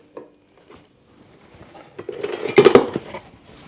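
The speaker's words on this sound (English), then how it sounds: "Our little teaspoons, which we actually bought one set of these before." A set of metal measuring teaspoons clinks and rattles near the microphone, starting with a few light taps and building to a busier jangle of handled metal.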